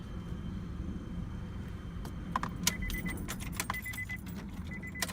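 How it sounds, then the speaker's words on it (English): Keys jangle close by as a 2000 Honda Accord is switched off, with a soft hum at first, then several bright metallic jingles and clinks in quick bursts, no one speaking. "I'm going to go ahead and shut the car off."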